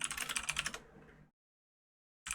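Rapid clattering keystrokes on a computer keyboard, typing commands into an old text adventure game, a dense burst of clicks that trails off into silence before a short final flurry.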